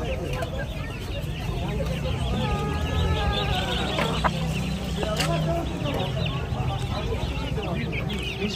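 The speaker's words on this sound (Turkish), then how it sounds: "Şu horoz ne kadar küçük horoz?" A small rooster at a busy outdoor market crows and clucks among other fowl, its calls cutting through the crowd noise while voices talk nearby.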